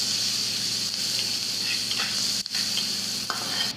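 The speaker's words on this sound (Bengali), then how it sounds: "এখন পেঁয়াজ আর রসুন একসাথে ভেজে নেব" Onion and garlic frying together in a pan for a taro root mash, a steady loud sizzle with faint stirring scrapes throughout.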